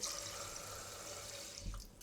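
Cloudy water swirled by hand at a kitchen sink, with a steady wash of running, sloshing water and a brief louder splash toward the end.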